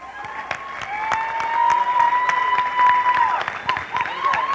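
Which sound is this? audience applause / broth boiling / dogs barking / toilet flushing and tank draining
audience applause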